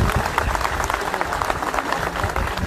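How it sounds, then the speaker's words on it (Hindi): A crowd of employees claps at a gate meeting outside a government secretariat, steady dense applause throughout that sounds moderately near, with faint voices underneath. "तालियां बजाकर इनका धन्यवाद करें।"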